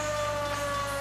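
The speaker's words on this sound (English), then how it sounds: "I get a siren!" A La France fire truck siren in the video game L.A. Noire wails steadily with a sustained electronic tone over a constant background hum.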